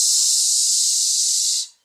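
A voice imitates the hiss of a pressure cooker on the stove, making the 'sh' sound of the letter X in Portuguese: one loud, close, steady hiss lasting about a second and a half, then cutting off abruptly into silence, with no talking.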